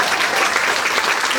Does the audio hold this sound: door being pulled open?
no